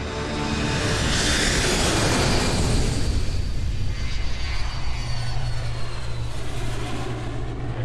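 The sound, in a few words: jet airliner engine, United Airlines Flight 175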